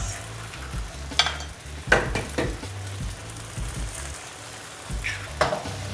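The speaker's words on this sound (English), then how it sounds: "Swirl the egg slightly, like this." Two cracked eggs fry in hot oil in a wok next to rice vermicelli noodles, a continuous close sizzle broken by several scraping stirs and spatula knocks as the egg is swirled.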